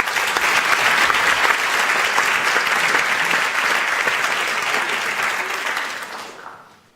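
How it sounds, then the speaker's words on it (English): An audience applauds guest speaker Steven Lee Myers at a book talk on Vladimir Putin, a dense, steady roar of many clapping hands that holds for about six seconds before tailing off. "So give him a warm applause, Stephen Lee Meyers."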